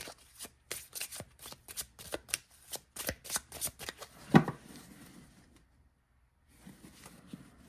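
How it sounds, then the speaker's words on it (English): Close, crisp riffles of a small, stiff Blue Bird Lenormand card deck being shuffled in quick bursts, with a louder snap midway, then a pause before a few softer flicks. "So let's see how they shuffle."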